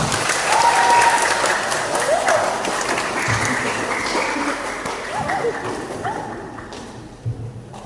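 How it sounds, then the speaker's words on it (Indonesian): Church congregation at a Pathfinder and Adventurers Club induction in Sorong gives loud, sustained applause that gradually fades out over several seconds, with scattered voices underneath. "boleh tepuk tangan"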